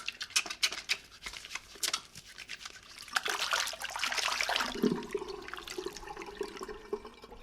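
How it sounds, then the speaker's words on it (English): Water trickles and splashes steadily through a hospital ceiling in a video game, a close running, dripping flow that swells midway with no voices over it. "There's water dripping through the ceiling."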